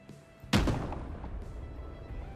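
A single loud gunshot fired at a shark in the video game Gas Station Simulator, a sharp close blast followed by a rumbling decay and low background noise.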